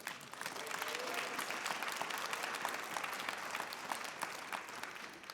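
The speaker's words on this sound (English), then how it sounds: "So let's give them a round of applause." Audience at a Hmong Minnesota Chamber of Commerce event applauds in a steady, dense round of clapping that holds evenly for several seconds, sounding moderately distant and filling the room without pauses.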